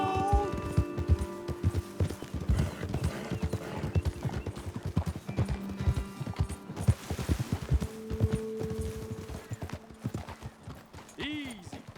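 Horse hooves clip-clop steadily on a trail in the Red Dead Redemption 2 video game, several horses walking up close with a brief whinny, while characters talk over the hoofbeats.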